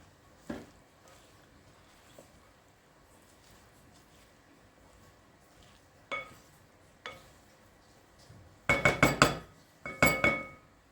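A spinach salad with sauce is stirred in a bowl, giving a few scattered clinks and taps at first, then a closer burst of rapid utensil clatter against the bowl near the end, with no talking.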